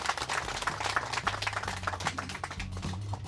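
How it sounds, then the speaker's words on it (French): An audience at a public gathering applauds with quick, irregular claps from a modest group. The clapping is moderately loud and sits over a low, steady hum that runs underneath throughout. "Je demanderai qu'on applaudisse."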